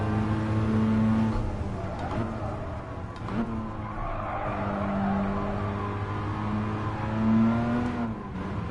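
A Mazda RX-7 race car in a driving game, its engine droning and revving steadily with tire skids and squeals, loud and continuous throughout.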